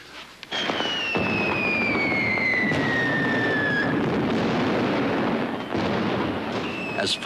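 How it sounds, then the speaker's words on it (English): Loud fireworks burst close by, with sharp bangs followed by long whistling, descending streaks and crackling rumble that fills the air, then several more pops near the end. "As fireworks, explosives can be an art form."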